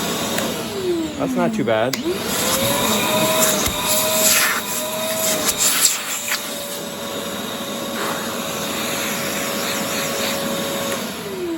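A Mastervac 10-litre, 2 HP wet/dry shop vacuum runs with a loud, steady whine and airy roar, its pitch sweeping briefly early on, while someone speaks over it.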